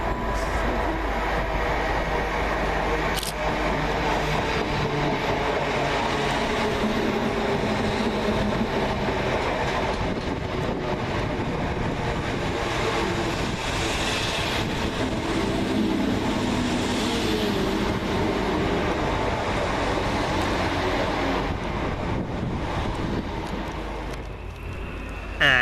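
Two coupled Greater Anglia Class 317 electric multiple units pull into Tottenham Hale station, a steady loud rumble of wheels and traction with rhythmic rail clatter that holds throughout, easing slightly at the end.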